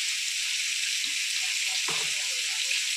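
Vegetable stems and potatoes frying in hot oil give a steady, loud, close hiss and sizzle throughout, with a couple of soft low thumps underneath and no speech.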